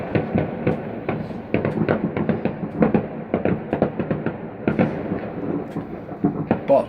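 Fireworks crackle and pop continuously outdoors on a freezing November night, with dense, rapid bangs and crackling bursts throughout, fairly loud.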